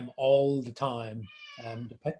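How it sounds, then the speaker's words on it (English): A pet cat meows in a long, drawn-out call, close to the microphone, alongside a person talking. "Sorry, that's my cat."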